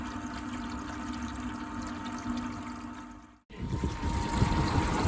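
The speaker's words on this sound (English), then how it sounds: "So I'm just circulating the clear water through the system, make sure that all the residue's gone." Fresh water circulates through the sea water cooling system of a Volvo Penta TAMD41-P boat engine during a chemical clean, a steady rushing flow that briefly cuts out and resumes louder with sloshing.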